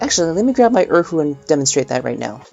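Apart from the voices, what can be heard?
None of the usual background noises is heard.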